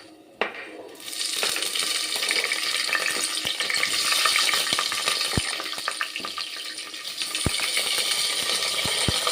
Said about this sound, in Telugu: ఆయిల్ కూడా హీట్ అయిపోయింది ఇప్పుడు ఇందులో హోల్ గరం మసాలాని వేసుకున్నాను